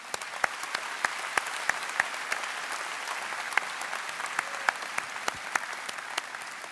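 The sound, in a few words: audience applause for retiring teacher Mr. Johnson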